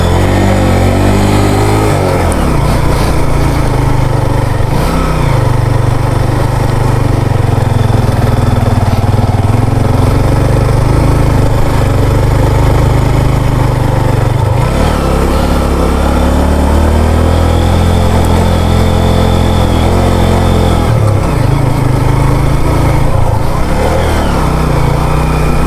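Motorcycle engine labouring up a steep, winding hill climb near Khuzdar, a loud steady drone that holds throughout, with brief dips and surges as the rider shifts or eases off the throttle.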